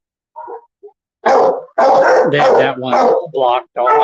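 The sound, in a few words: dog barking at Hawaiian Humane Society shelter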